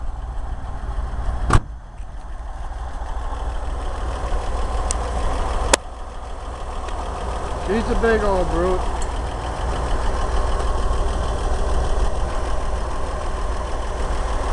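A cold-started 1965 International R-185 truck engine idles with a low, steady rumble throughout, joined by a couple of sharp knocks and someone speaking briefly over it.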